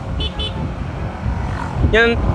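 A car horn honks loudly in a short burst amid traffic noise, after two brief higher beeps earlier on.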